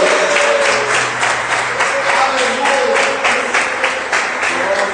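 A church congregation applauds in steady, dense clapping that carries through loudly from start to finish, with voices and a faint tone mixed underneath.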